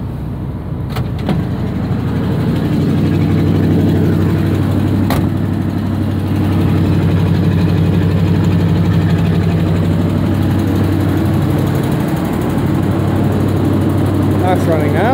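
A 1982 GMC C30 truck engine idles steadily in snowy cold, a continuous low rumble, close and even throughout, with a brief knock near the start.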